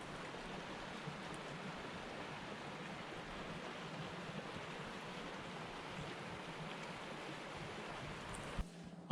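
Steady, soft rushing of a flowing creek in winter, a continuous even wash with no voices.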